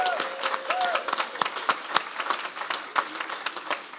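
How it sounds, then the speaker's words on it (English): An audience claps for city Parks and Rec staff at a Rockwall candidate forum, with distinct individual claps standing out in a moderate, uneven round and a faint tone briefly sounding early on. "let's give them a big round of applause"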